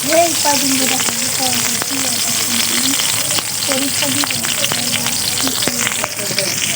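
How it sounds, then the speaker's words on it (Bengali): Onions frying in oil in a pan for a beef tripe dish, a loud continuous close sizzle with faint tonal squeaks and scattered crackles throughout, no voices. "তো আমি এখানে তেল দিয়ে দিতেছি পরিমাণ মতন"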